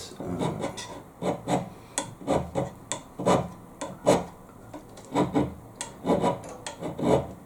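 Carbide scraper blade scraping a metal block in short repeated strokes, a steady rhythm of rasping, grinding scrapes about twice a second, close and moderately loud, with no talking.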